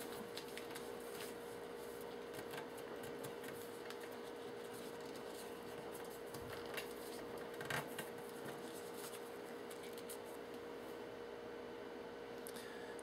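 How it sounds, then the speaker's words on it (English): Excess paper is folded over the end of a .58 calibre black powder rifle cartridge, making faint, soft rustles and crinkles at close range in an otherwise quiet space. "then I fold in the edge of the excess paper like this"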